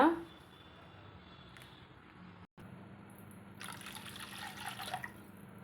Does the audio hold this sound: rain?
no